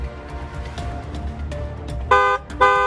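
A vehicle horn blares twice in short succession, loud and close, near the end of a stretch of busy road noise with faint intermittent tones.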